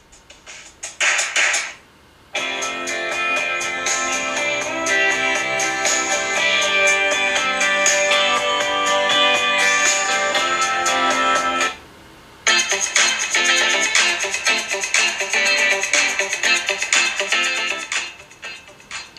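Music plays through the single bottom speaker of a Samsung Galaxy S7 Edge, a dense track with a short intro, a brief drop near the middle, then resuming until fading out, slightly thin and bright.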